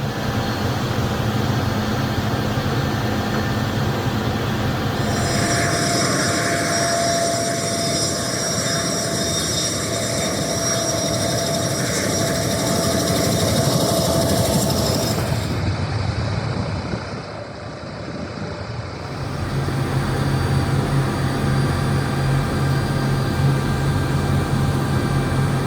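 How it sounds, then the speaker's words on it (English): A Mil Mi-26, the world's largest helicopter, runs its turboshaft engines for a heavily loaded takeoff, giving a loud, continuous roar and whine. The tone shifts midway and the noise dips briefly before surging back. "bringing the world's largest helicopter into the air requires careful planning"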